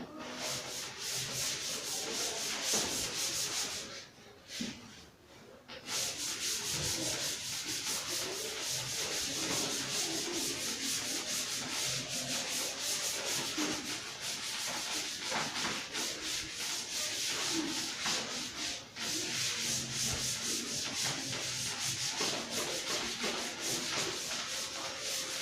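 A board is rubbed clean during a maths class on matrices, a long, steady, close scrubbing that runs almost nonstop and breaks briefly near the start, with no talking over it.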